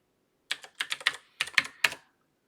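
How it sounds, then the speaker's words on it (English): Rapid keystrokes on a computer keyboard, hammered out in two quick bursts of sharp clicky taps separated by a short pause, close and clear against silence. "I banged my keyboard"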